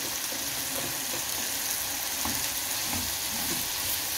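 Olives go into a hot pan of shawarma, with a steady, close, continuous frying sizzle and crackle running evenly throughout and no talking.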